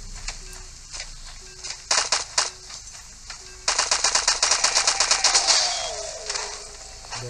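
Rapid bursts of gunfire aimed at a boss in the survival shooter LifeAfter, first a few short volleys, then a long sustained string of loud, closely spaced shots, with no talking.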